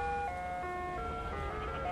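An ice cream truck's chiming electronic melody plays steadily, tinny and sustained, over a constant outdoor background hum, with no talking.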